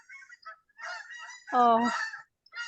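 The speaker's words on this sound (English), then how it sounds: "there are some geese flying over" Canada geese honking as they fly over, several loud nasal honks in an irregular cluster, fairly close, with a person briefly speaking.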